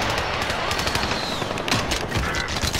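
Dense, continuous automatic gunfire in Call of Duty on Rebirth Island, loud and close, with rapid overlapping shots filling the whole moment.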